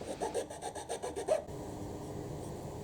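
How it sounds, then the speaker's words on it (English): Someone hand-sands a small wooden dowel rim for a plant trailing rod. There are quick, soft rhythmic rubbing strokes for about a second and a half, then faint steady friction. "So I'm just sanding it down to get a good rim"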